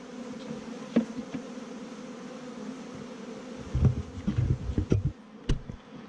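Honeybees buzzing steadily around an opened hive in California during swarm season, close by, with a few knocks and handling sounds toward the end.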